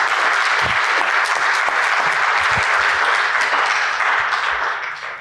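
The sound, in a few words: audience applause for two keynote speakers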